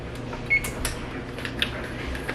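A kitchen oven's control panel being set to preheat to 375 degrees, producing a couple of short electronic beeps and a few light button presses close by against a steady background hum.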